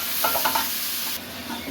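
Potatoes sautéed in a pan with cumin, garlic, onion paste, chili powder, turmeric and salt, giving a steady close sizzle with a few soft stirring scrapes before the sizzle thins out.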